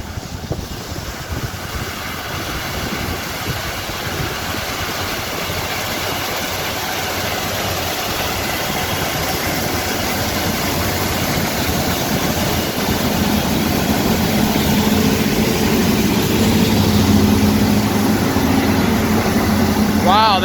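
A Versatile tractor and a Peterbilt truck idle at harvest, a steady, loud, low engine drone that rumbles on throughout and swells slightly toward the end, with wind noise mixed in.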